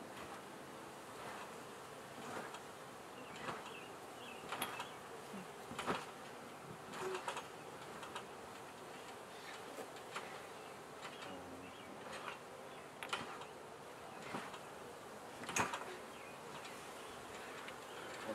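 Honey bees buzz steadily around an open hive during a quick inspection in light rain, a soft continuous drone with occasional closer individual bees flaring louder.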